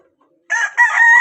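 A loud, close rooster crow breaks a brief silence, a short rising note followed by a longer drawn-out call.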